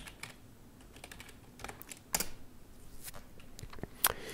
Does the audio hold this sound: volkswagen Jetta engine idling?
no